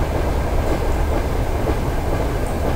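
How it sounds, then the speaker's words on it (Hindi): A premium express train passes in Trainz Simulator 12 on Indian Railways, a steady loud rumble of wheels on track with faint clicking, close and continuous throughout. "ये प्रीमियम एक्सप्रेस ट्रेन हमें ओवरटेक कर रही है"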